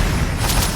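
A Confringo blasting spell goes off in Hogwarts Legacy, a short, loud, booming explosion with a broad rumbling burst and no speech over it.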